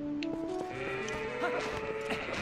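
Goats bleating in The Legend of Zelda: Twilight Princess, several wavering bleats over a steady bed of game music and ambience, fairly close and moderately loud.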